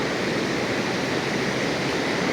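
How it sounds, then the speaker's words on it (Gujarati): A dense, steady roar of rushing water, loud and close, with no pauses or voices. "ખડખડ વહેતો નદીનો પ્રવાહ"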